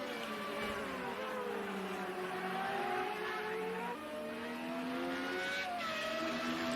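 An FR35 race car blasts down the front straightaway in a race, its loud engine wail rising and falling in pitch through gear changes as it passes close by, with no talk over it.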